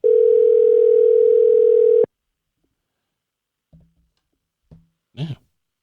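A phone call rings out unanswered: a steady loud tone holds for two seconds and then cuts off, followed by silence broken only by a few faint, brief clicks and a short murmur.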